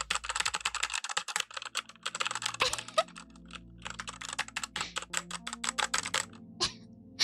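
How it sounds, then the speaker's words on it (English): A very loud mechanical computer keyboard clatters under fast typing, with dense bursts of sharp clicky keystrokes broken by brief pauses, close and alone. "I have a really loud keyboard, and nothing can beat how loud this thing is."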